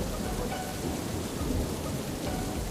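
Steady, dense rain pours down with a heavy thunder rumble filling the background in a cartoon scene, loud and continuous with no voices.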